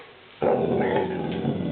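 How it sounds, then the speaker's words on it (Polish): A dog's sound starts abruptly after a brief silence and holds steady for over a second, a close, continuous growl-like grumble in a quiet room, with no talking. "Dobry pies."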